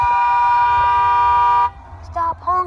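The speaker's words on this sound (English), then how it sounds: "Stop honking" A car horn blares in one long sustained toot lasting over a second and a half, followed by two shorter honks, loud and close with background noise beneath.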